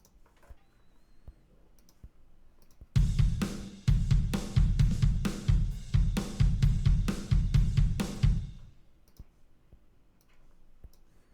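Dry, unprocessed drum track recorded in GarageBand with no EQ or effects, a steady run of sharp, close hits lasting about five seconds, bracketed by quiet clicking.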